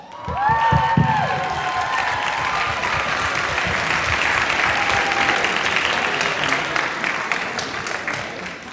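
A school auditorium audience at a middle school Christmas show breaks into sustained applause and cheering for Santa, with a few whoops and shouts early on, then steady dense clapping filling the hall for the rest.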